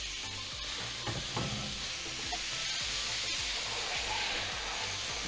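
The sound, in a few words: steak frying in hot oil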